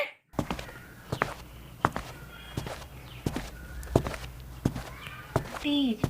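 Footsteps approach indoors during a hide-and-seek game, a series of distinct thuds spaced under a second apart that sound fairly close, with a brief voice near the end.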